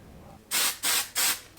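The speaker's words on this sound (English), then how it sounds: "Now, hairspray on the other side." Three bursts of hairspray from an aerosol can, each lasting about a quarter second with short gaps between, close by and fairly loud, applied to the other side of hair styled with a Dyson Airwrap.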